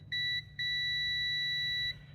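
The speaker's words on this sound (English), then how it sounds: "nice loud buzzer" Digital multimeter on its continuity setting as the test leads touch together: a loud, clear electronic beep sounds in two bursts, a short one followed by a longer sustained tone, with no talking.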